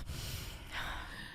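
A voice imitates a woman's labored breathing, a breathy gasping inhale and raspy exhale, close and moderately loud over faint background noise.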